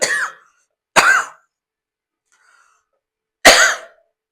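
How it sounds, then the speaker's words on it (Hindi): Three separate coughs from a tired teacher: a short cough at the start, another about a second later, then a final harsh cough after a pause of quiet, each close and abrupt with no talking. "खांसी आने लगा भाई"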